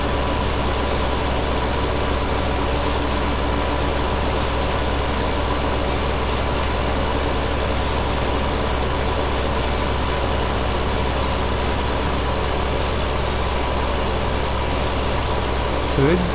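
A tractor engine drones steadily while pulling a silage wagon in the Farming Simulator 15 game, a continuous low rumble that holds even throughout, with a voice talking over it.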